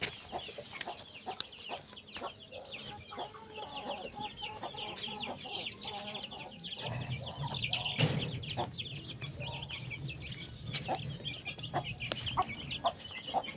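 Backyard flock of chickens with young yellow chicks clucking and cheeping in a steady mixed chorus, with a fuller burst of louder clucks partway through; no talking.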